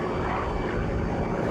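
Grumman F8F Bearcat, a roughly 50-year-old propeller fighter, its piston engine giving a loud, steady, dense roar close by, with no talk over it.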